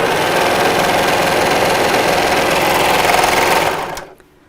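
A sewing machine runs steadily, stitching fabric in a continuous fast mechanical whir that stays loud and even, then stops abruptly near the end, leaving quiet.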